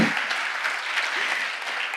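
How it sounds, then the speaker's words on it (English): Steady applause from a conference audience at a strategy execution session, a dense patter of many hands close by, holding evenly without talk. "give them a round of applause."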